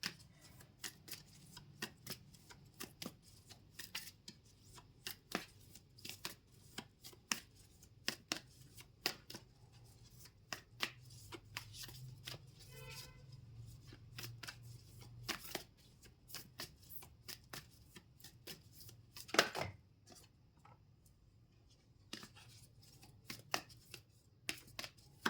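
Tarot cards are shuffled by hand in quick, irregular bursts of soft papery flicks and taps, close and fairly quiet, with one sharper snap partway through.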